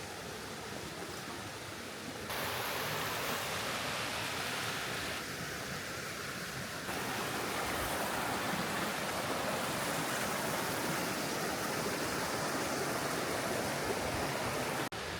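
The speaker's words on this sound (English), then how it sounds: "I wanted to know why Becky Falls is called Becky Falls" Water pours steadily over Becky Falls on Becca Brook in Dartmoor, a dense, unbroken rushing roar heard close by and alone, swelling louder after a few seconds.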